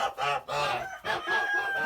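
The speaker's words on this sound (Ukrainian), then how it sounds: "По голосу можна чути. Мені здається, що це гуска сіренька, така голубенька" Kholmogory goose, a grey-blue bird about four and a half to five months old, gives a few loud honking calls in a rapid broken series close by, with no voices.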